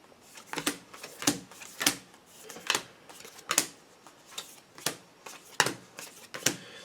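A deck of cards is shuffled in repeated sharp riffles and snaps, about a dozen crisp bursts at an uneven rhythm, close and fairly quiet with no talking.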